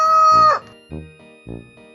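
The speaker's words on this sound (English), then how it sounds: "Good morning, rooster. Cock-a-doodle-doo. That's how a rooster says hello in the morning." A single rooster crow rings out loud and close, followed by two short clucking calls with pauses between them.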